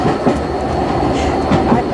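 The Royal Scotsman luxury train rolls along the rails through the Scottish Highlands with a loud, steady rumble and faint rhythmic wheel clatter, heard from close by on board.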